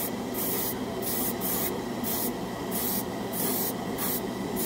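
An airbrush spraying primer on a scale model gives a steady, close hiss throughout, with repeated bright bursts as the trigger pulses in a regular rhythm.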